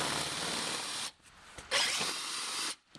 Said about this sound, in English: using the same 13mm drill we did before,